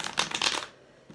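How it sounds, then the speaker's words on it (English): A deck of tarot cards gets a quick close shuffle, a brief papery riffle of fluttering card edges that stops abruptly into near silence. "I pre-shuffled all of these decks for you, but I like to give them a little bit more of a shuffle."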